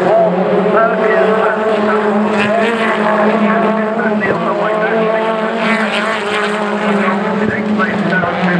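BTCC touring cars, including an MG, roar through the chicane at Thruxton, engines droning loudly and continuously under a race commentator's voice.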